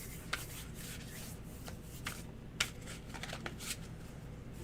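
Tarot cards shuffled by hand, a soft continuous rubbing riffle with several sharper snaps of cards, close but quiet.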